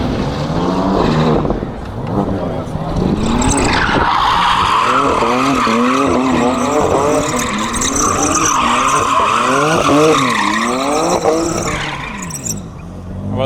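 Drift car at the Ultrace auto show sliding with tires squealing continuously, loud wavering engine revs rising and falling under a sustained high screech, close by with crowd noise.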